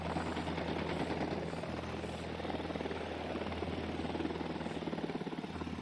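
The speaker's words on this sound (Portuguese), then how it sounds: "Helicóptero inbound." A helicopter approaches in the video game Ghost Recon Wildlands, a steady, loud, continuous rotor thrum and engine roar that holds throughout with no speech over it.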